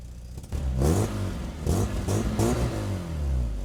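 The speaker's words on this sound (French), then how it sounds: "Avec donc au niveau de la ligne une double sortie qui fait un joli bruit" A Volkswagen Golf 2 GTI, a naturally aspirated engine breathing through a dual-outlet exhaust, revs in three or four sharp close-up bursts, each rising and dropping back to a throaty idle.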